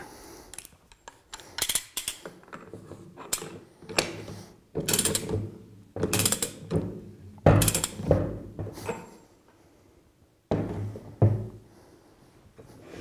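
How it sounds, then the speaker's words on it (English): A wrench retorquing the nut on a Flotronic one-nut diaphragm pump gives a run of close metallic ratcheting clicks in short uneven bursts, with brief pauses between strokes and a final burst after a short gap. "And then we can retorque the pump."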